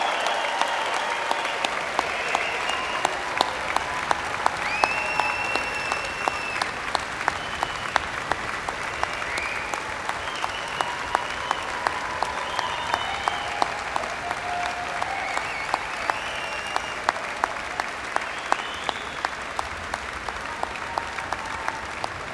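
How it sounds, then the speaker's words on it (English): A graduation ceremony audience gives a long, sustained round of applause for award and prize recipients, dense even clapping with sharper individual claps standing out throughout. "please join us in giving all recipients of awards and prizes a final round of applause"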